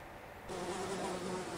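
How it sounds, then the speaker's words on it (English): Insects buzz in a steady, close drone with a faint higher whine, holding constant for a moment without any voices. "Flies. Buzz,"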